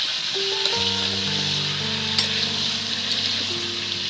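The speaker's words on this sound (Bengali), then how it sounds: "একদম এই তেলের মধ্যে একদম নেড়ে চেড়ে ভেজে নেব বন্ধুরা" Potatoes stir-fry in a kadai full of oil for Kashmiri dum aloo, a continuous close sizzle and hiss with faint scraping stirs, along with a steady tonal hum running underneath.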